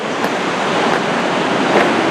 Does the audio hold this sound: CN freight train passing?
no